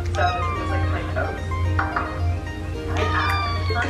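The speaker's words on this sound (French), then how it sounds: "Oh, petit chat." A house cat meows several times, rising and falling drawn-out cries close by, with a steady low hum underneath.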